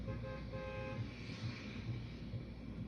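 A party bus horn honks in a video game, sounding as a steady sustained toot for about a second over a dense, continuous background of game noise.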